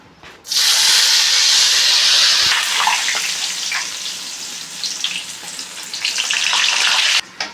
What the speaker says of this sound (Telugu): ఇలా నూనెలో ఒత్తేసుకోండి